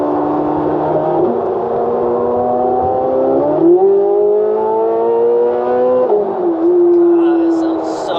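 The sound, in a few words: Corvette engine revving with high flow cats exhaust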